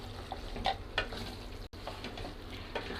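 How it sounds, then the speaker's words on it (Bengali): Beef curry with roasted cumin powder is stirred in a hot pan, the spoon scraping in short bursts over a constant sizzle, with one brief dropout midway. "এখন আমি দিয়ে দেব 1 চা চামচ পরিমাণ ভাজা জিরার গুঁড়ো, দিয়ে ভালোভাবে আবারও নেড়ে দেব"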